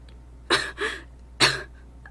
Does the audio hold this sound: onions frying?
no